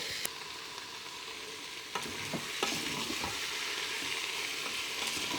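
Carbonade flamande beef being stirred in a pot, with a steady low sizzle and a few sharp scraping knocks of the spoon against the pot, no talking.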